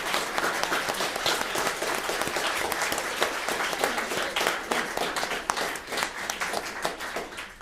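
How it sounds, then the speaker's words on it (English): An audience applauds at the close of a vocal masterclass with a soprano, a dense crowd of hands clapping steadily and fairly loudly, the individual claps thinning slightly toward the end. "join me with a big round of applause"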